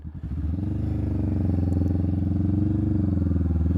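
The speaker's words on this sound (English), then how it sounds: "You're really in command of the motorcycle in this position." A motorcycle engine thrums steadily up close while riding, a deep pulsing low drone that builds briefly at the start and then holds an even, throbbing rhythm.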